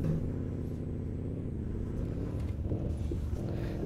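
A steady, loud, low engine drone from a Nissan Titan Warrior pickup truck as it climbs an off-road slope, holding a constant rumble from start to end with no breaks.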